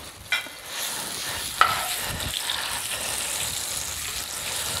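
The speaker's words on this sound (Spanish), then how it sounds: "Ahora vamos a dorar el chivo, el chivito." Milk-fed young goat meat browning in oil with garlic and salt, a steady close sizzle and stir with a couple of sharp knocks against the pan near the start.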